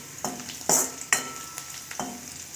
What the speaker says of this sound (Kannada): ಸ್ವಲ್ಪ ಕ್ರಿಸ್ಪಿಯಾಗಿ ಕರಿಬೇಕು ಬೆಳ್ಳುಳ್ಳಿನ